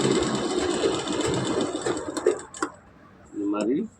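A sewing machine stitches poplin cotton fabric in a steady whirring run that stops partway, followed by brief handling clicks and a short burst of machine noise, with a voice speaking over it.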